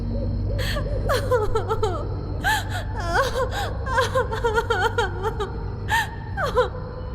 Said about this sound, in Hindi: अरे इतनी रात गए, लड़की के रोने की आवाज।